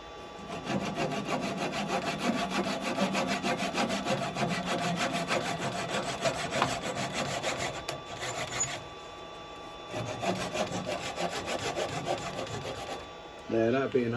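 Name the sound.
handsaw cutting off wooden tenon on lathe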